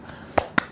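Two sharp, separate claps sound close and fairly loud, about a fifth of a second apart, over a quiet background.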